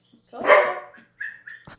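A pet dog barks outdoors, one loud close bark followed by a few shorter yips and a whine-like tail, fairly near and alone without talk.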